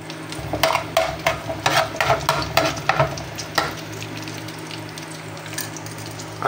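Camel meat adobo cooking with salt in a pan, a run of sharp scraping stirs and clatters over a steady low sizzling hiss, fading toward a quieter simmer, close and fairly loud, with no talking.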